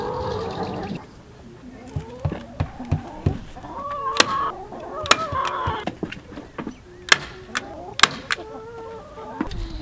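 Several chickens cluck and squawk inside a chicken tractor in short, irregular bursts, with sharp clicks and rustling scattered between the calls.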